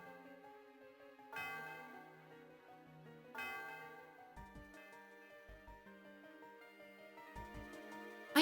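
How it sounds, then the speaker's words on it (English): Bell chime from the Celestial Tower in the Pokémon Black video game, two bright resonant strikes ringing out over soft game music, each swelling and decaying slowly, followed by lighter melodic tones. "Tom rang the bell."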